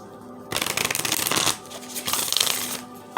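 A deck of tarot cards is shuffled close by in repeated papery riffling bursts, with brief pauses between them and no talking.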